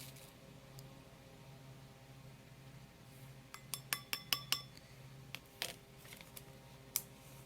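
Half a teaspoon of Glitter Uniques Gold Hollow Dots, 0.04 size, is scooped with a metal measuring teaspoon, giving quiet, bright clinks and taps in a quick cluster midway, then a few scattered ticks, with no voices.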